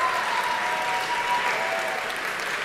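Audience applause at a political debate: a sustained, even wash of clapping from a crowd, moderately loud and steady for a few seconds with no talk over it.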